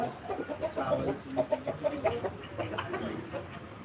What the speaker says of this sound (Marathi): सगळ्यात मोठा डोना बाकीच्या कोंबड्यांमध्ये